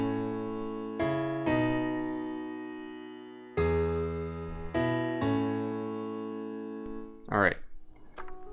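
A simple, catchy synth melody over a steady low bass line from music production software, several sustained notes changing in a slow pattern, with a short burst of another sound near the end.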